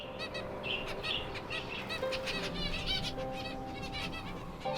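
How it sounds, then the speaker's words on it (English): Zebra finches in a garden aviary give soft, repeated little chirps, a steady scatter of calls layered over a constant hiss of background noise. "Just slow movements and soft chirps."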